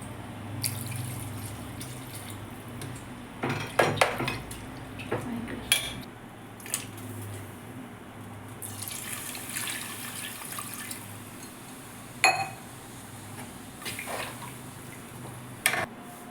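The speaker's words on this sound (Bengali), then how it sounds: "কুকারে আমি মাংসগুলি ঢেলে নিয়েছি এবার আমি জল দেব" Water is poured onto mutton in a pressure cooker in a home kitchen: a quiet trickle and splashing mixed with clinks of metal pots and utensils, close and fairly faint, with no speech.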